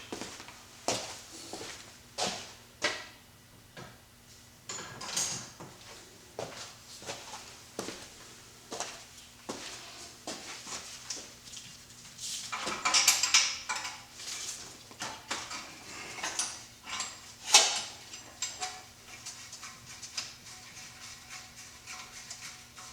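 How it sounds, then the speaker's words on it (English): A 17mm wrench handled and set down among other metal tools, making scattered close clanks and clinks with irregular spacing, including a denser cluster of rattles midway, over a low steady hum. "Then 17mm wrench."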